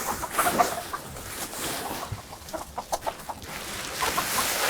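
Chickens cluck in a series of short, soft calls nearby, with light scratching and rustling in between.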